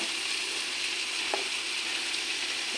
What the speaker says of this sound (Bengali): আমি সব কিছু মিশিয়ে নিই দেখো পনির বাঁধাকপি